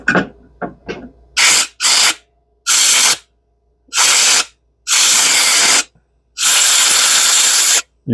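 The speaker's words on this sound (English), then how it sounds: "I want to use my air to blow some of this out." Compressed air blasts through generator carburetor parts in a series of loud, close hissing bursts, each lasting under a second to about two seconds, after a few lighter clicks and short puffs.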